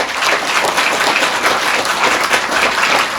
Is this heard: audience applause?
yes